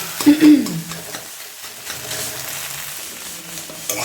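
Egg bhujia made from seven eggs sizzles and fries in a pan while being stirred, with scraping strokes early on and a steady close frying hiss throughout.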